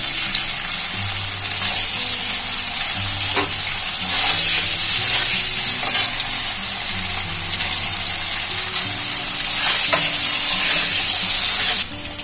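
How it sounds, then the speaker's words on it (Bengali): Paneer cubes frying in hot oil in a pan, a loud, steady hiss and sizzle that holds for the whole stretch with faint clinks underneath. "তেলটা গরম হয়ে গেছে, পনিরগুলো দিয়ে দেবো। এই পনিরগুলো হালকা করে একটু ভেজে নেব।"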